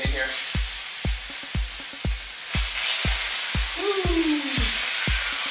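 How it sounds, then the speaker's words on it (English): Tilapia fries in very hot olive oil in a frying pan, a loud steady sizzling hiss punctuated by regular sharp pops and crackles throughout. "Make sure it's nice and hot, and that the olive oil is popping up off the frying pan."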